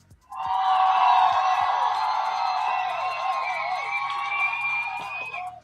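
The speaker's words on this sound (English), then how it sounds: "I got a whole crowd in the back here." A large crowd cheers and whoops continuously for about five seconds, a loud canned burst that starts abruptly and stops abruptly, played as a sound effect with no talking over it.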